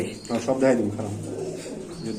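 Soft, throaty coos from black pigeons at a pigeon sale rise briefly near the start, with low murmuring voices and background chatter continuing underneath.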